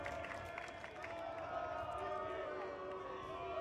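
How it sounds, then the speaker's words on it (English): The crowd at the 2012 World Ultimate Championships masters final between Canada and Australia reacts to a foul call on the throw with a sustained, distant murmur of disapproval and rumbling voices. "And the Aussie crowd does not like the call."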